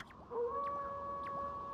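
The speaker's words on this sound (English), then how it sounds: "That was Kemu's howl." A wolf-like howl from Kemu, a canine character in the video game Okami, rises as one sustained tonal call and holds steady, moderately loud and clear, with no talking.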